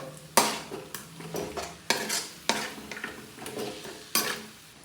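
Repeated scraping and clinking of a utensil stirring pork kasim pares in a pan, in irregular strokes over a faint sizzle.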